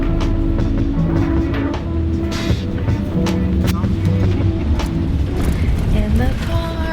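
Car cabin noise on a drive through New York toward LaGuardia: a steady low road rumble with occasional clicks and rattles, with people talking over it.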